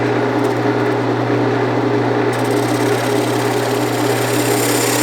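A small Osage Orange bowl spins on a wood lathe, a steady motor drone carrying a continuous cutting hiss as the bottom is shaped, close and loud, no talking.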